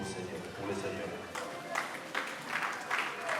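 A congregation at a funeral service breaks into applause. Scattered clapping and crowd noise build over a few seconds, with speech running underneath.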